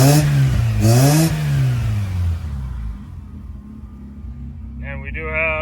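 A 1976 Mazda RX4 rotary engine fitted with a 1979 RX7 transmission revs up and falls back in a couple of quick blips, then settles into a low idle before another rise.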